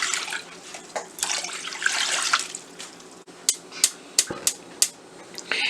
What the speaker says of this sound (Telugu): ఒక బౌల్ తీసుకొని 2 కప్స్ వాటర్ పోసుకోవాలి.